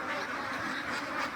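A chorus of hybrid ducks on a duck farm quacks continuously, the calls soft and somewhat distant, overlapping into a steady, busy babble.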